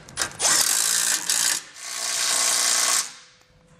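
A ratchet tightens base plate hardware on a 2019 Lincoln, heard as a few short, bright clicking bursts up close with brief pauses between them.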